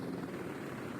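Aircraft engine in the Project Flight game holds a steady, faint droning hum with a fluttering propeller-like texture, a brief continuous tone with no talk over it.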